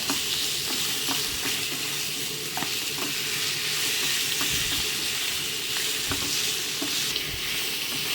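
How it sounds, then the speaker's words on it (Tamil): Chicken pieces and onions sauté in oil in a pan, a loud continuous sizzle with repeated scrapes and knocks of a stirring spoon, close and unbroken throughout. "கொஞ்ச நேரம் வந்து இந்த எண்ணெயோட வெங்காயத்தோடு சேர்த்து இந்த சிக்கன் வதங்கட்டும்"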